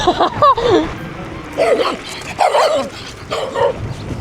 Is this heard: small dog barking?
yes